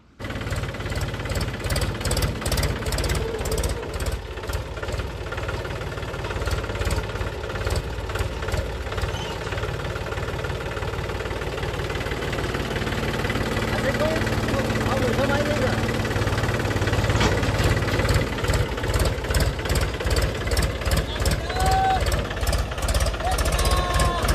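A tractor engine idles with a steady, knocking throb that runs the whole time, loud and close, while voices talk over it.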